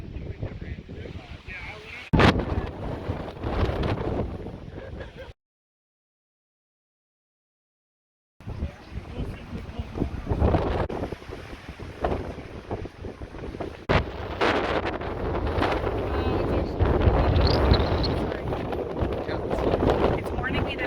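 Strong gusty wind buffeting at a fire tower on a hilltop, loud and roaring with a brief gap, and people talking over it.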